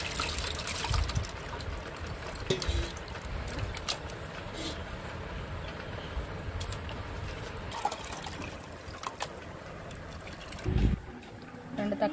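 Tamarind soaked in water and squeezed by hand in a bowl while making a fish curry: soft, continuous sloshing and trickling of liquid, close by, with a few louder splashes.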